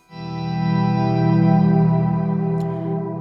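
A sustained, thick guitar tone through an octaver pedal with a deep octave-down layer, ringing out smoothly with long sustain and a wash of delay and reverb.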